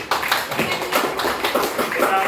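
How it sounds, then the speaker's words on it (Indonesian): Applause in a junior high classroom for a student group, a brief patter of claps from a group of students. "Jadi kita beri tepuk tangan untuk kelompok sanitasi"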